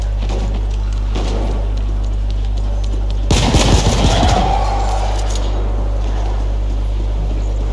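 Gunfire in The Ascent erupts as a sharp burst of rapid shots over a steady low engine-like drone, lasting about a second before the hum continues alone.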